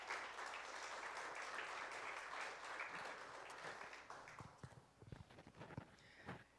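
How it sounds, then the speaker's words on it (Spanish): A church congregation applauds during a sermon, sustained clapping that thins out over the last seconds into scattered individual claps. "Dale un aplauso al Señor si lo crees"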